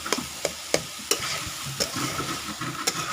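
A spatula stirs greens and potatoes frying in a pan, giving sharp regular scraping clacks about every third of a second over a continuous soft sizzle, close and with no talking.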